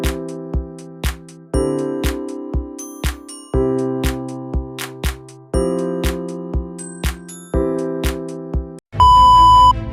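Music plays as a repeating melody of sharp, bright tones and plucked notes with a bass pulse, ending in a brief burst of noise. It does not sound like an air fryer timer beep.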